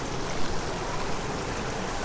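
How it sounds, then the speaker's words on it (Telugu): A forest stream runs over sand and rocks, giving a steady, broad rushing wash of flowing water at moderate loudness with no voices. "అదిగో ఆ పైన వస్తుందన్నమాట వాటర్."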